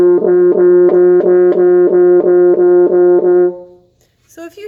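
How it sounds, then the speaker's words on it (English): A French horn with water trapped in its tubing plays a sustained note broken by a rapid, regular gurgling flutter, about ten pulses in a row, before the tone fades out and a faint voice starts at the end. "First, a gurgle in the French horn sounds like this."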